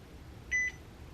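A slow cooker's control panel gives a single short electronic beep as its timer is set, a brief clean tone over faint room hum with no talking.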